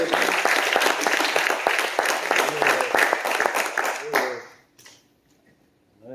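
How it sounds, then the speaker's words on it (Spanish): A church congregation bursts into applause, dense clapping filling the space for about four seconds before fading away, with a voice heard faintly near the end. "Vamos a dar un aplauso al Señor."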